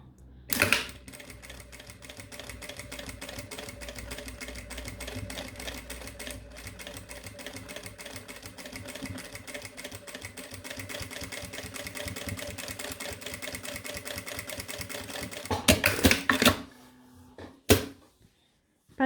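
A sewing machine topstitches a patchwork pencil case along a seam, a steady fast mechanical rattle that runs continuously for most of the stretch, then stops, with a couple of louder clunks near the end.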